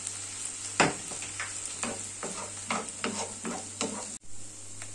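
Browned onion frying in a pan, a low continuous sizzle under a handful of spaced scraping stir strokes, close and soft, with a brief bump and a short gap near the end.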